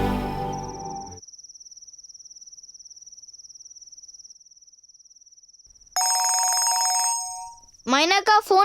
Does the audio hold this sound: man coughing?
no